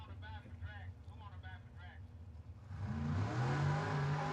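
Door cars launch at a drag race, one a '39 Chev, with someone talking over a low idle before a loud engine roar surges in and holds at full throttle.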